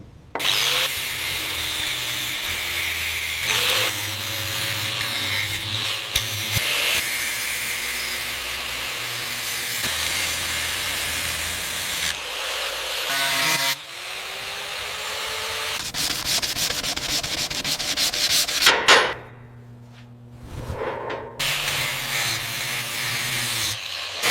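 A coarse sanding wheel grinds steadily during restoration of a Thomas the Tank Engine piece pulled from a scrap yard. The harsh, loud rubbing runs almost continuously, with a brief dip near the end before it resumes.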